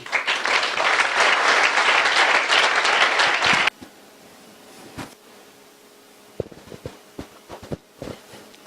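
A church congregation bursts into loud, dense applause for about three and a half seconds, then stops abruptly, leaving a quiet room with scattered thumps and knocks.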